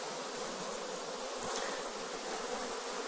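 A dense, steady buzz of honeybee workers fills the space close by as they are shaken off a brood frame, a continuous swarming drone with no voices.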